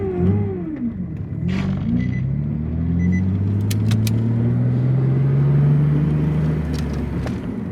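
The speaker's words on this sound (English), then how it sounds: "we're finna take it for a little test drive real quick" A Nissan Altima fitted with a new exhaust is driven on a test drive, its low engine rumble rising steadily in pitch as it accelerates, heard from close by inside the car.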